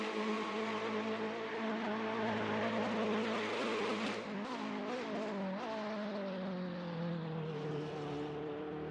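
GT3 race cars, a Ferrari and a BMW, racing at Spa in a video game, with engines droning loud and steady and a pitch sweep as one car shifts and revs through a corner.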